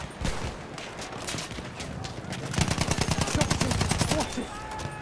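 Battlefield 1 gunfire crackles in rapid bursts, sparse early then a dense automatic volley, loud and close with game ambience underneath.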